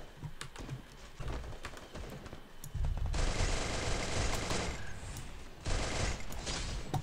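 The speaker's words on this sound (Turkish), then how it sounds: "silah vuruyor arkadaşlar" Cobra MP40 submachine gun in the Free Fire video game firing in long, loud sustained bursts, with a brief pause between two extended strings of rapid automatic fire.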